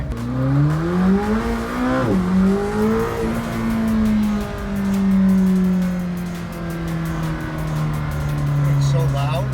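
Engine of a McLaren Senna revving and accelerating on a race track, a loud steady roar with rising and falling pitch sweeps, heard beneath people talking inside the car.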